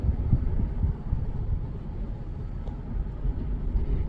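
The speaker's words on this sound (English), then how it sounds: "Oh, it's windy as hell and cold." Low, rumbling wind buffeting the microphone outdoors, fairly steady with gentle surges, no voices present.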